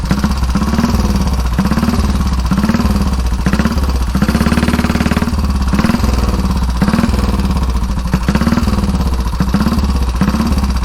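A 1934 Velocette KTT motorcycle runs on the road. Its single-cylinder engine produces a loud, close, steady thumping drone that rises and falls gently with throttle changes while riding, and no voice is heard.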